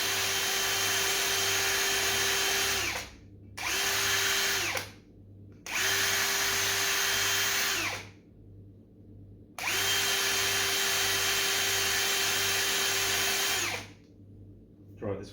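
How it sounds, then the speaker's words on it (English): A power tool buffs a steel suspension bush for an HQ GTS coupe, whining loudly in four bursts of a few seconds each with short silent gaps between them. "You don't want to keep buffing, you make it too big and the actual bush will be too loose."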